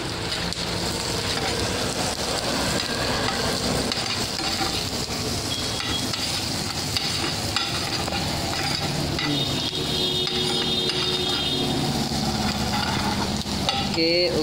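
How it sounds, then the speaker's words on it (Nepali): Onion and green chilli fry in a pan, a dense, continuous crackling sizzle close by with stirring and occasional light metallic clinks throughout. "ओके प्याज र खुर्सानी एकैछिन भुटिन्छ."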